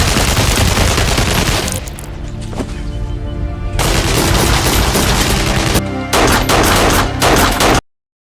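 A soldier fires brutally in a film scene, with loud, dense bursts of rapid gunfire and booming shots that fill nearly the whole span, a brief lull in the middle, then an abrupt cutoff at the end.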